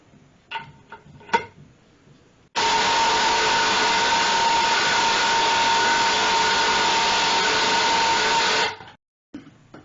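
A Ryobi P238 impact driver powered by a 4 amp Ryobi battery runs on lug nuts in one long, loud, steady whirring burst of about six seconds, preceded by a few short clicks and taps.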